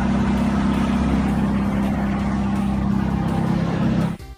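A Ferrari convertible sports car engine holds a loud, steady low drone close by for about four seconds, then cuts off abruptly.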